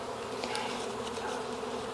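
A captured swarm of honey bees hums in a dense, continuous buzz of many wings close by, steady and unbroken with no voices.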